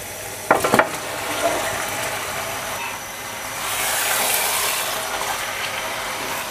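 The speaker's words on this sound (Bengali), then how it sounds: "তো মাছগুলো এখন আমি দিয়ে দিচ্ছি।" Fish pieces for muri ghonto drop into a hot pot, giving a couple of sharp splashy thumps followed by steady sizzling and bubbling that swells midway and keeps going.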